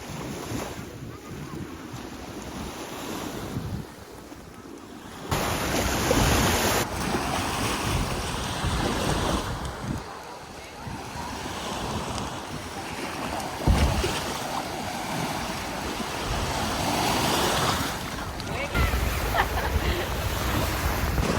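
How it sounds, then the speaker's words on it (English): Waves wash onto a private beach near Pisa in Tuscany, a steady surf rush mixed with heavy wind buffeting the microphone throughout. "Marie's just telling me that this beach here is a private beach for the families of the fire brigade of Pisa"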